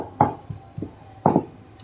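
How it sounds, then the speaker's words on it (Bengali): Raw chicken pieces pounded on a stone shil-nora grinding slab, a few dull thuds at an uneven pace, close by and fairly loud with quiet pauses between blows. "মাংসগুলোকে থেতো করে নিচ্ছে, তো এইভাবেই থেতো করে নিচ্ছে সব কটা মাংসকে"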